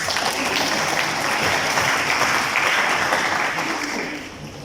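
An audience at a Karachi University chemistry alumni gathering claps in a dense, sustained burst of applause that fades slightly toward the end.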